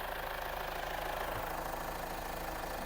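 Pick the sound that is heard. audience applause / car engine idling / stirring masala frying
car engine idling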